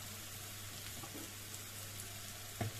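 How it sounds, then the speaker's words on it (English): Onions lightly sautéing in a pan for Goan batat bhaji, giving a steady, fairly quiet sizzle with a brief clink or scrape near the end and no talking. "I will lightly saute these onions"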